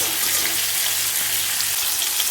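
Fish frying in hot mustard oil, a steady close sizzle that fills the whole stretch without a pause, with no one speaking over it.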